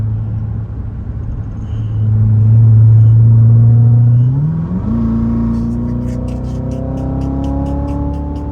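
A car engine in Sport mode, loud and close from inside the cabin, with a deep rumble that swells, drops as a gear shifts, then climbs again in a steady rising drone under acceleration.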